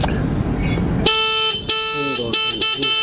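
A loud electronic electric scooter horn honks in several short bursts with brief gaps, following a low rumbling hum.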